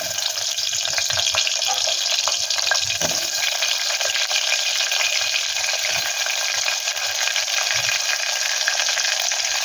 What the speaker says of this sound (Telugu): నూనె వేడింది కదా నూనె వేడిన తర్వాత ఉల్లిపాయలు వేసుకోవాలి